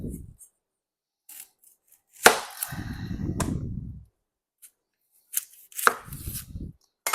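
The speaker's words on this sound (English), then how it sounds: "I am needing to cut one more onion" Knife chopping an onion on a cutting board for chili, a few separate bursts of cutting and crunching strokes with quiet gaps between, close by.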